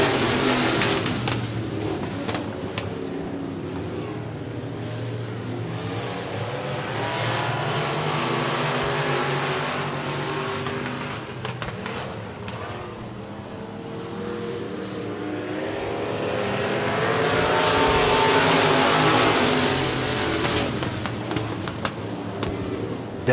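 A pack of Eco Limited Modified race cars circles Big O Speedway in a heat race, engines droning loudly and continuously with swelling roars as cars sweep past, and an announcer's voice is heard over them.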